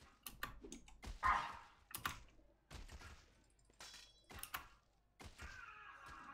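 A dog barks in The Bard's Tale ARPG Remastered and Resnarkled game, a series of sharp, separate bursts spread across the moment over a quiet background.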